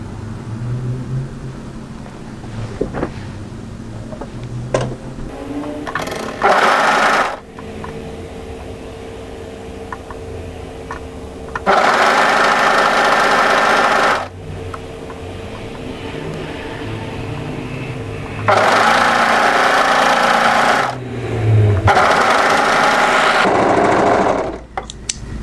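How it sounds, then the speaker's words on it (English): Overlocker serging a back waistband from side seam to side seam on a tie-front dress, loud close bursts of whirring stitching separated by quieter gaps with faint handling sounds. "Take your back waistband pattern piece and overlock from side seam to side seam."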